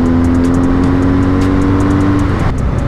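A BMW R 1250 GS motorcycle accelerating on a road ride, its engine a loud, close, continuous drone that holds a steady pitch and then shifts near the end, with no talking.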